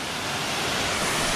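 Cauldron Falls pours in a steady, dense broadband rush of falling water, close and continuous with no other sounds.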